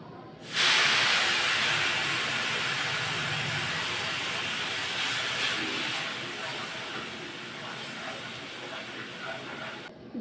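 Water poured into a hot pan of sugar and semolina for suji halwa: a sudden loud hiss bursts out and continues as a sustained, slowly fading steamy sizzle for about nine seconds, close by, with no voices.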